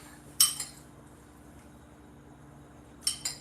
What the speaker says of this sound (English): so I'll give it a stir